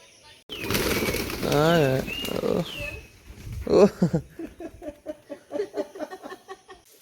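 Close, clattering bursts of wing flaps and scuffling from a few pigeons being fed, with a stretch of voices and bird sounds before the fluttering takes over.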